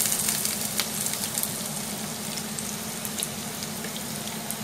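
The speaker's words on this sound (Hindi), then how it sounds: "अभी हम इसमें ये प्याज डाल रहे हैं।" Onions hitting hot oil in a pan along with cumin and spices, giving a steady, close crackling sizzle with bright spattering pops throughout and no talking.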